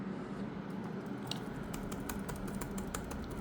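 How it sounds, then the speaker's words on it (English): Soft, muffled key presses on an AXL Vayu Book 15.6 laptop keyboard, a quick irregular patter of typing heard faintly over room noise. "it makes a very soft sound, which is okay, but it's very mushy to touch"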